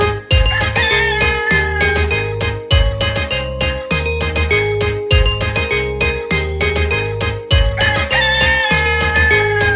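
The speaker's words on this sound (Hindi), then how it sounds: "मुर्गा सुबह सुबह बोले कुकड़ू को कुकड़ू को" A rooster crows and clucks in a Hindi nursery song, over a loud, bouncy musical backing with a regular beat, the calls repeating through the clip.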